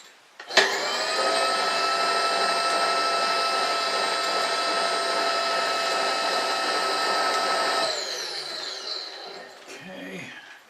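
A power tool, likely a drill or reamer, opens up a hole in a lathe tail-stock die holder, running with a steady loud whine for about seven seconds before spinning down.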